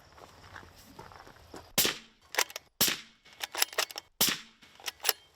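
Suppressed 6.5 rifle shots fired into dirt, a string of sharp cracks roughly half a second to a second apart, each a crisp muffled pop over a quiet outdoor background with no talk.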